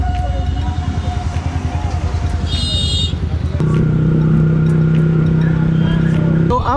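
A motorcycle with an aftermarket exhaust idles with a loud, lumpy pulsing burble, then shifts to a steadier, louder drone about halfway through, with faint beeps and clicks around it.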